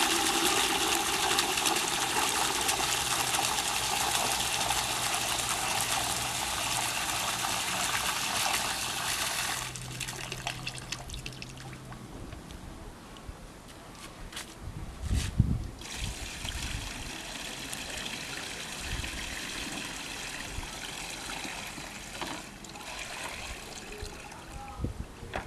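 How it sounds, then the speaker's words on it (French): Water poured and trickling into a bucket, a steady splashing stream for about ten seconds, then quieter dribbles and a few sharper splashes, close and fairly loud. "Et je vais mettre l'eau dans un seau, dans un autre récipient."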